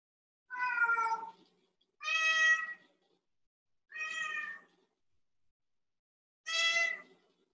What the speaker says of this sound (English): The sound of cat is within I